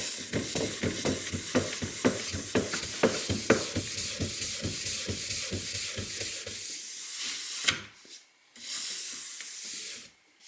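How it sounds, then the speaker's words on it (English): A brush rubs and polishes a crystallized, hardened heat-applied finish, making steady rhythmic scrubbing strokes up close, thinning to a few softer swipes with brief pauses near the end. "I really, really like using this brush. Again, we can polish."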